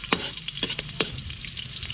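Chopped garlic frying in heated cooking oil, a close steady sizzle broken by a few sharp scraping stirs.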